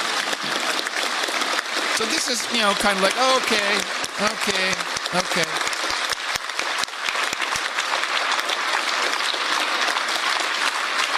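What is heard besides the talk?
standing ovation from parliamentary members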